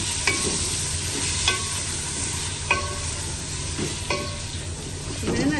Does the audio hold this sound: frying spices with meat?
yes